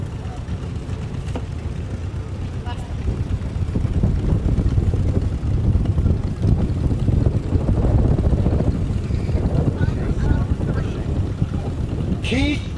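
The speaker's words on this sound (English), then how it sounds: "is driving a 1949 John Deere Model M" A 1949 John Deere Model M tractor driving in a tractor parade gives a steady, low engine rumble under outdoor wind noise, holding fairly even throughout with a brief bright sound near the end.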